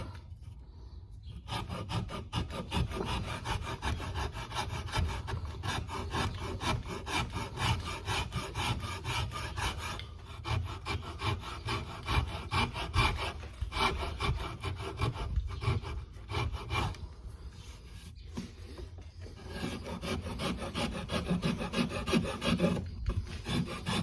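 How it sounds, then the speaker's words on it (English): A wood rasp carving a wooden guitar neck, steady rhythmic rasping and scraping strokes repeated close up for a long stretch, with short pauses between bursts. "And then I can move to this rasp again."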